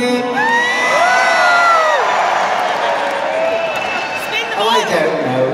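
Concert crowd at a show cheering, whooping and shouting together, with high voices rising in long swells, loud and close throughout.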